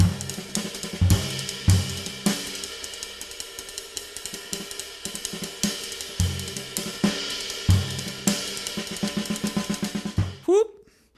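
Small Gretsch jazz drum kit played with a swinging groove: steady cymbal wash, snare and tom accents and soft kick hits, ending in a final crash that rings out before a quick cutoff.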